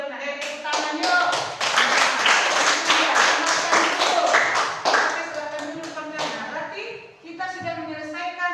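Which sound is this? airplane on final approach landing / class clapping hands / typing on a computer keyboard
class clapping hands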